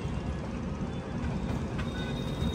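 The Devagiri Express rolls slowly out of Secunderabad, heard from inside as a steady low rumble of wheels and carriage noise, with no voices.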